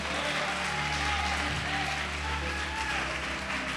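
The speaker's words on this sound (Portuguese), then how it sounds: "Pode aplaudir e glorificar." A church congregation applauds during a worship service, a dense continuous wash of clapping held at steady loudness throughout with a low organ-like hum underneath.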